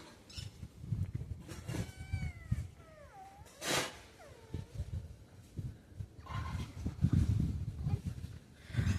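A domestic cat meows several times up close, with drawn-out wavering cries between bursts of rustling handling noise as a young girl plays with it at home.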